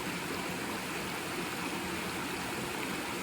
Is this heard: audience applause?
no